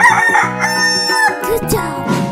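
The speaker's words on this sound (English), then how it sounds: "Chicken." Rooster crowing in a 3D animal slide game, a single loud, bright cock-a-doodle-doo with a rising and falling pitch, upfront and clear, with music playing underneath it.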